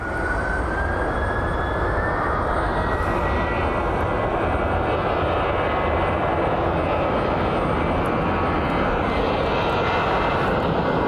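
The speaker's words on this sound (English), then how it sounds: "Should be United Airlines Flight 335, a 737-900ER that'll be heading to Chicago O'Hare." A United Airlines Boeing 737-900ER jet roars at an airport, a loud continuous engine rumble with a rising whine, steady throughout and without speech.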